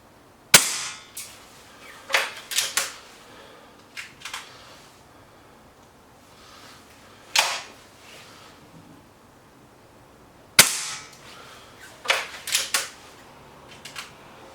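Webley VMX Quantum and BSA Lightning SE air rifles fire in turn, with sharp single cracks spaced a few seconds apart, some followed by quick metallic clicks of the action or pellet strikes, with no talking.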